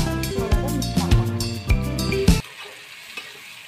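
Masala for dhaba-style chicken tikka masala fries in a pan, loud sizzling with clattering stirring strokes for a couple of seconds, then dropping to a faint hiss.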